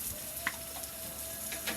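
Spam and garlic sizzle in a metal mess kit, a soft steady frying hiss with a few brief crackles, heard close and alone with no talk.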